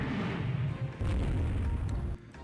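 A warship takes a shell hit during a naval battle in the strategy game Rule The Waves 3, giving a loud, deep booming explosion that rumbles on with a heavy low roar before cutting off.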